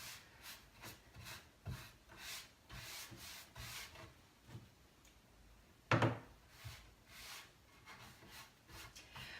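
Black wax from Dixie Belle being rubbed by hand onto a painted cobalt blue wooden chest, giving soft repeated brushing and wiping strokes up close with one sharper knock midway.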